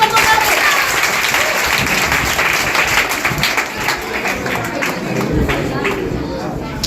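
Audience applauding competition winners at a GK quiz prize event, a dense, loud, steady wash of clapping from a crowd that holds strong throughout.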